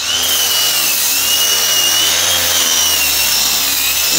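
A power tool smooths the wooden surfaces of a large bookshelf being built, giving a steady, loud, high-pitched whirring rasp that holds for the whole stretch with no talk over it.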